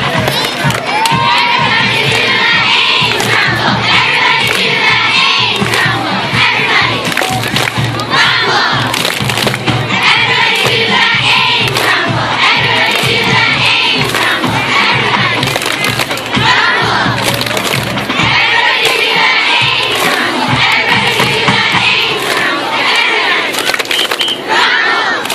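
Cheerleaders perform the Ames Rumble cheer at a high school varsity football game, a loud, steady mass of young voices shouting and cheering in unison with rhythmic claps and stomps for about twenty-five seconds, with crowd noise throughout.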